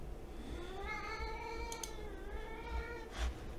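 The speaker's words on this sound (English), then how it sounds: "My cat in the background." A pet cat meows in long, drawn-out calls, a few separate cries in the background with no one talking over them.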